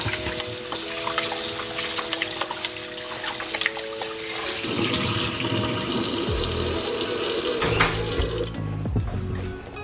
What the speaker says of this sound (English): Just getting all the water out the bowl